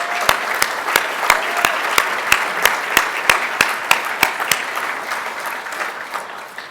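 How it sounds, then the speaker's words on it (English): A banquet audience at a school athletic hall of honor event applauds current coaches as they stand, with a steady wash of clapping and sharp individual claps in a regular rhythm throughout. "we owe you a big applause"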